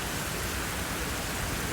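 Heavy rain pours down steadily near a nipa hut while floodwater rises in the street, a dense, unbroken hiss with no gaps. No voices are heard over the downpour.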